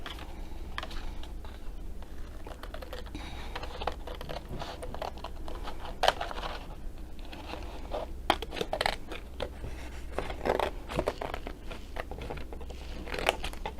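Scissors snip pieces off a large piece of material in a series of close, crisp cuts, irregularly spaced over a low steady background hum, with no voices.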